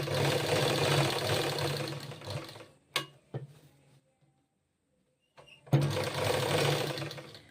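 A home sewing machine runs in two loud continuous stitching bursts while a blouse with a drop neck is sewn, separated by a few quiet seconds with faint handling clicks and a brief knock.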